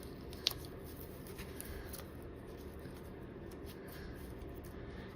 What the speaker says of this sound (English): I'm going to cut my doilies a little bit.